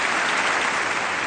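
Sustained applause fills a legislative chamber, a dense, loud, even roar of many hands clapping at once, close and continuous with no voices over it.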